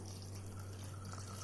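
Water is poured over cooked rice in a home kitchen to soak it overnight for pazhaya sadam, a faint steady trickle under a low background hum.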